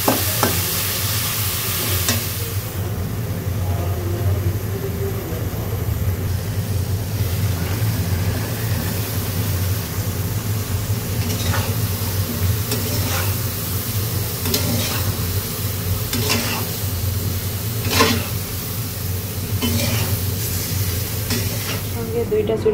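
Spice masala being stirred and fried in a pan, a steady sizzle and hiss with repeated scraping strokes from the spoon, spaced irregularly over a long stretch at close range.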